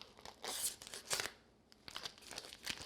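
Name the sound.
plastic sausage package being cut open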